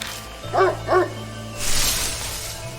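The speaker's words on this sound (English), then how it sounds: "The dog barks loudly, then vanishes into the western underbrush." A dog in the video game Death Mark gives two sharp barks close up, followed by a rustling swish.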